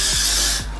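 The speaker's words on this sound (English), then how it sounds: "then you want to get some Got To Be glued hairspray" Got To Be Glued hairspray misted onto a synthetic wig, a single brief loud hiss of aerosol spray close up that cuts off sharply at the end.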